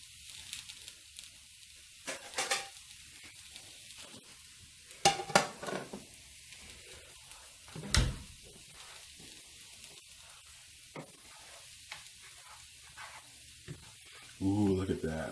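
Creamy scrambled eggs made with cream cooking slowly in a pan, a soft low sizzle with occasional stirring scrapes and a few louder knocks, under quiet room tone.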